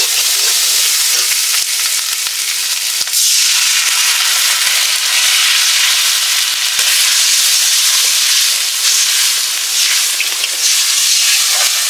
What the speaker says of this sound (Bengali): এখন আমি জল দিয়ে দিচ্ছি।